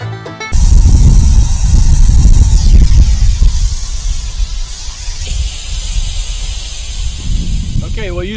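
Water hisses and sprays from a leaking garden hose connection with a flattened washer, a loud, steady rushing spray that begins abruptly and continues with slight fluctuations up close.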